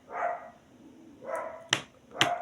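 A dog barks a few times nearby, short sharp yaps and woofs spaced about half a second apart over low background hiss, with no talking.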